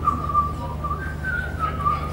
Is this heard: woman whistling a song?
yes